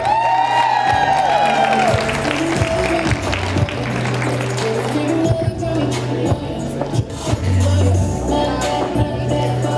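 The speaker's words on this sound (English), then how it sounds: "One last round of applause for Thomas and Maddie." Audience at a high school prom fashion show gives a couple a final round of applause, loud clapping and cheering mixed with music and an announcer talking over the crowd.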